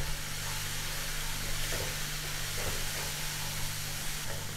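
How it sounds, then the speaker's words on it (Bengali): Spice paste frying in oil for a spicy climbing perch curry with orange, giving a steady, close hiss and crackle that holds level throughout with no talking. "এবার মশলাটা খুব ভালো করে কষাতে থাকবো। মশলা থেকে তেল ছাড়তে শুরু করে দিয়েছে।"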